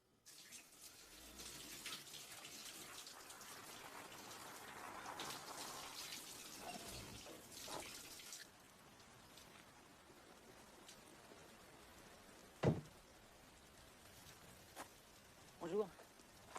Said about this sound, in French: Oui, là elle prend une douche.